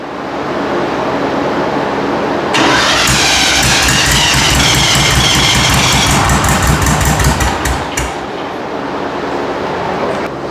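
A 40 HP VW engine in a rat rod VW truck cranks loudly and rhythmically for several seconds, trying to start without fuel, then drops back to a steady rumble.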